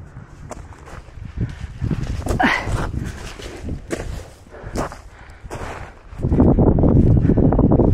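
Gusty wind near a mountaintop buffets the microphone in rough surges, rising to a loud, steady roar near the end, with scattered footsteps and rustling beneath.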